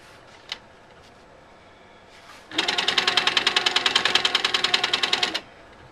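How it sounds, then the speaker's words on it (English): A sewing machine stitches down the side of a quilt block in a steady, close run of rapid needle strokes lasting about three seconds, preceded by a few faint handling clicks. "Stop in the point, stitch down the other side."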